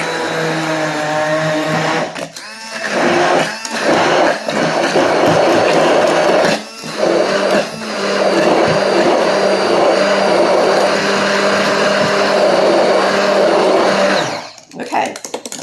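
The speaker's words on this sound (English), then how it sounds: "I will put about a half cup of sugar in them, and we're going to puree them." A blender whirs loudly, pureeing strawberries with sugar, its steady motor drone briefly cutting out and restarting in a few pulses before a final stop near the end.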